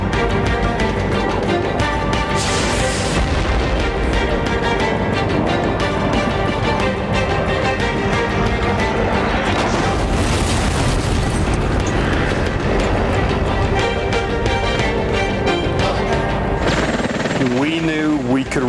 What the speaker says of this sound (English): you could hear the boom of those cannons